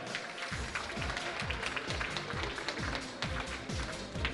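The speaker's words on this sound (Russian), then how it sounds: "Ваши аплодисменты." Audience applause at the Miss Sakha Republic (Yakutia) 2015 beauty pageant, a dense steady wash of clapping throughout, joined by a regular low thumping beat of stage music underneath.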